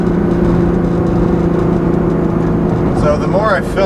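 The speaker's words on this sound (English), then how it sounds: "It's that classic GT-R sound, or classic Nissan sound, really." Steady engine hum of a tuned 2015 Nissan GT-R with Meisterschaft exhaust fills the cabin while driving, a constant mid-pitched drone, with a voice starting up near the end.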